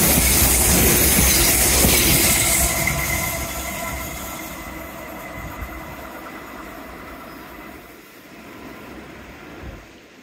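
A train passes on a railway near a seaside beach, loud rumbling and wheel noise at first, then fading steadily into the distance over several seconds.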